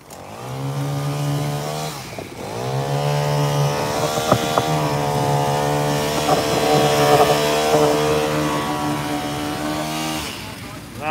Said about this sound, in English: Getting to ride my motorbike.